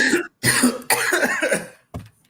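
A few loud, harsh snorting and throat-clearing bursts up close, separated by short silences, ending with one brief final snort.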